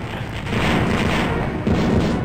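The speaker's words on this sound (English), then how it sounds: "That is some kind of explosion right there." A booming explosion in the TIE Fighter space combat video game, a loud, rumbling blast that swells and holds with a second surge near the end.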